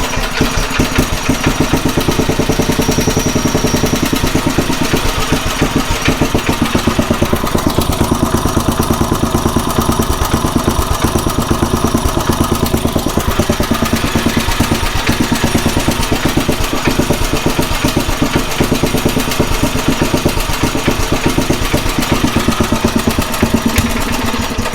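A Craftsman rototiller engine with a rusty tank and dirty carburetor idles low, a continuous chugging putter heard up close and steady for the whole stretch, with no voices over it.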